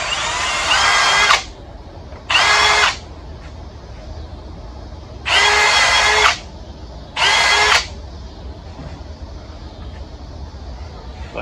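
Milwaukee power drill countersinking a bolt hole, running in four loud bursts: two shorter ones, a pause, then two more, each about a second long, with quiet between and no talking.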